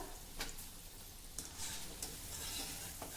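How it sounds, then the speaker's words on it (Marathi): Red pumpkin fritters fry in hot oil over a lowered gas flame, a quiet steady sizzle with faint crackles and a few sharp clicks scattered through the short stretch. "थोडे तळून झाल्यानंतर गॅसची फ्लेम मंद करा, म्हणजे आतपर्यंत हे बोंड व्यवस्थित तळल्या जातात"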